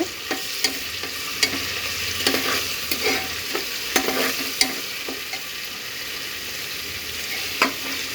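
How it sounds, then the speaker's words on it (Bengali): Spice paste for pulao fries in a pressure cooker, a steady close sizzle punctuated by sharp, irregular spoon clicks and scrapes as it is stirred, with no voices. "মশলাটা আমার এই যে ভাজা ভাজা হয়ে যাচ্ছে"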